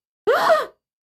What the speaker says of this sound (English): couldn't suppress a gasp of astonishment